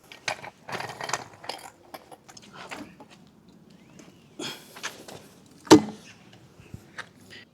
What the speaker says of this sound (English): I haven't even put up the paddock stand yet